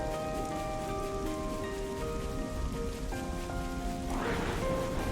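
Soft, steady rain falls across the ocean area in Xenoblade Chronicles 3, a constant gentle patter with sustained melodic music notes layered beneath it.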